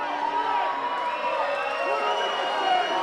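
A loud wrestling crowd at a Pro Wrestling Australia main event cheers and screams continuously in an indoor room, a dense wall of shouting voices with scattered whoops and shrieks throughout.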